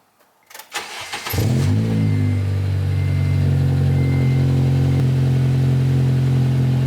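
A Honda engine with a Skunk2 Megapower RR aftermarket exhaust cranks and catches, then settles into a loud, deep, steady rumble close by, with a throaty exhaust note.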